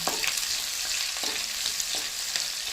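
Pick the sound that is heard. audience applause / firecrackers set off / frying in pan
frying in pan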